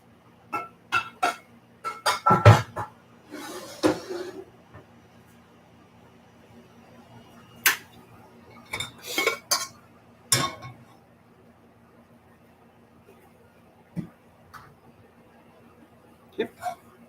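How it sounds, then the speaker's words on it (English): A small saucepan and utensils being handled in a home kitchen while making pumpkin spice maple candy, sparse sharp clinks and knocks scattered across a quiet background. "Now we're going to take a little itty bitty saucepan."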